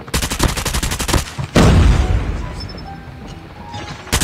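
A fast burst of video-game automatic gunfire rattles loudly, then a heavy boom erupts and decays into a rumbling tail, ending with another short burst.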